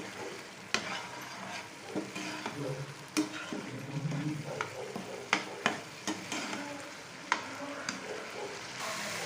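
Turmeric powder and salt are stirred into a sizzling frying pan for egg gravy, with repeated scraping clicks of a spoon against the pan over a steady low fry.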